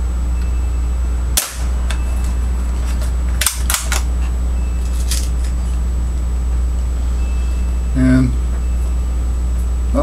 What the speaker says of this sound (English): So that first shot I took, I didn't see where it went.